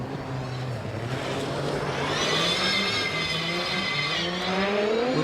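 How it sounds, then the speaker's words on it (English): A Nitro RX rallycross car races on snow and ice in Sweden, its engine droning loud and near with rising revs and a high whining pitch that climbs and holds, with no talking. "This time it's the Nitro RX car that comes across the line ahead."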